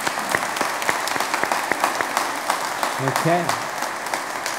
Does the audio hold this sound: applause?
yes